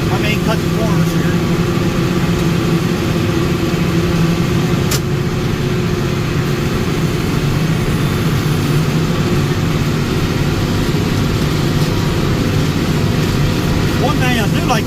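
A tractor engine drones steadily while mowing grass in the first cut of the season, a constant low rumble close by under someone talking.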